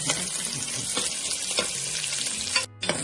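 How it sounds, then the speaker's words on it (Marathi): Onions frying in a pan for homemade mutton curry make a bright, constant sizzle with a few stirring scrapes, cutting out briefly near the end before resuming. "कांदा चांगला गुलाबी झाला झालेला आहे"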